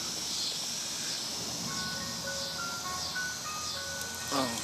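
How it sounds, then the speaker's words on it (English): An ice cream truck's chiming melody plays faint and distant outdoors, a thin tinkling tune of separate notes over steady insect-like hiss and ambient noise, with a brief louder sound near the end. "I guess the ice cream truck,"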